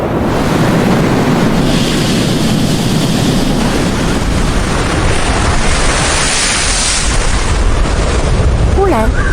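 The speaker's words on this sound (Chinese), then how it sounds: "海上狂风大作，刚刚还平静的海面涌起了比山峰还高的海浪" A stormy sea at the open ocean with strong wind and high waves makes a constant loud roar and rumble with heavy wind buffeting, and a voice sounds faintly near the end.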